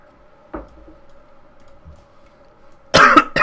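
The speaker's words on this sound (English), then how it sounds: "Just swallow some of my tea the wrong way and cough all over the microphone." A man coughs and clears his throat after swallowing tea the wrong way during a Civilization 5 game session, one short burst near the start and a loud, harsh fit of coughing close to the microphone at the end, over a faint steady hum.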